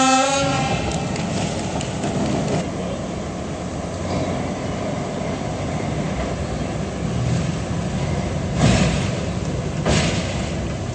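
A historic locomotive of about 1800 horsepower sits on a turntable in Bratislava, with a loud continuous rumble and hiss of the engine and brief horn-like blasts near the start and toward the end.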